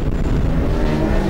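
A Formula Student race car's engine runs near its rev limiter during a 2009 endurance race, a brief, close, harsh and rough continuous roar.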